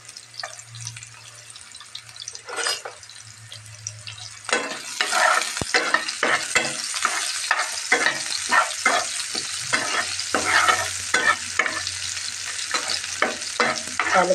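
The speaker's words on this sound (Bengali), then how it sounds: "আমি চুলায় তেল দিয়েছি, এখন আমি পেস্ট কুচি দিয়ে দিলাম মোমোর আর পুর তৈরি করার জন্যে" Momo filling of chopped ingredients and paste fries in oil on a stove, hissing and sizzling steadily with frequent close stirring and scraping sounds.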